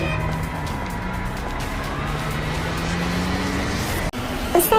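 A car drones steadily at road speed, the engine holding an even hum with faint shifting tones, then a sharp break near the end like a sudden impact.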